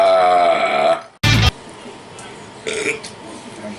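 A short, loud burp erupts from someone in a small crowd, preceded by a voice and followed by quieter room sound and a faint second murmur.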